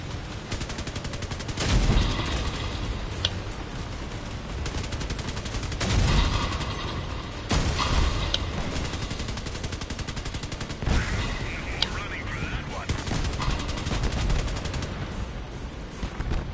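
Machine gun fire in the vehicle combat game CrossOut, sustained rapid bursts running nearly the whole time at a steady loud level, with a few heavier impacts punctuating the stream.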